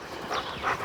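A search dog plays with a ball, giving two brief huffing bursts over a steady rushing background, close by.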